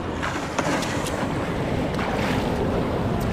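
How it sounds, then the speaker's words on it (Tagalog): Big waves wash and churn around a small boat in floodwater, a broad continuous roar of water and wind buffeting the microphone, with a few splashes standing out, no voices. "Malalaki ang alon."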